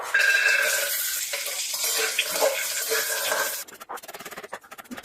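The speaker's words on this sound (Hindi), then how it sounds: "अभी मैं डालूंगी 1 कटोरी काजू, उसको हल्का रोस्ट करूंगी" A bowl of cashews in refined oil in a kadai, sizzling and hissing steadily up close, then breaking into a sparser, choppier crackle toward the end.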